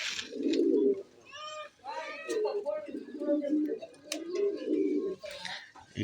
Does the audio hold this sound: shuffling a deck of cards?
no